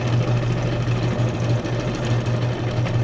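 Close and loud, a sewing machine stitches an altered playing card for a junk journal, its rapid mechanical chatter running continuously without a break.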